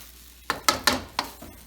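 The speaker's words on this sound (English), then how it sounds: "we're just going to let this fry for a little bit" Fried rice sizzling in a hot pan, with four or five distinct scraping stir strokes spaced about a fifth of a second apart over a faint steady sizzle, close and moderately quiet.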